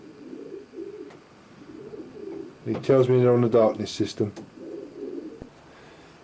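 Racing pigeons, young birds, cooing in a loft, a burst of soft throaty calls in the middle of the clip, with a voice talking before and after.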